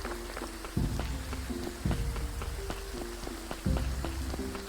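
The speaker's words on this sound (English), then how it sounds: "this is a rainstorm and a half" Heavy rainstorm in Graveyard Keeper, a steady dense hiss of rain with recurring low thuds and clicks, continuous and fairly loud with no voices.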